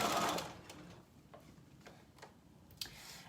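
A sewing machine stitches around a hemline with a soft, quick mechanical ticking, running briefly at the start and then giving way to faint scattered taps and clicks.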